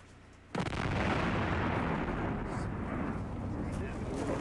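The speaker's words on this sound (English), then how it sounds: "Okay, Rudy Carrillo, count us down to the explosion" A Gremlin car blown up as a target in the desert, heard from about half a mile away: a sudden heavy blast followed by a long roaring, rumbling wash that keeps sounding for several seconds.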